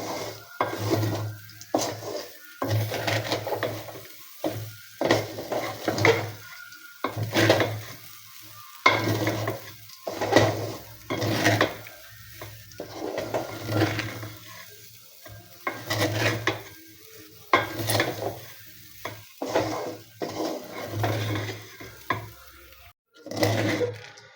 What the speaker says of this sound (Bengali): মশলাটা দেওয়ার পর এখন খুব ভালোভাবে নিজে চালের সাথে মিশিয়ে নিতে হবে